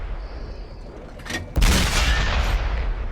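A tank cannon in World of Tanks, the French AMX 13 90 tier 8 light tank, fires a long-distance sniping shot: a single sudden loud boom that rolls into sustained rumbling battle noise, preceded by quieter ambient hum.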